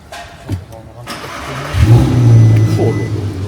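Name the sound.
sports compact car engine starting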